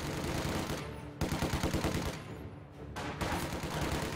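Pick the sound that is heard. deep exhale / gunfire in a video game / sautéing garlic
gunfire in a video game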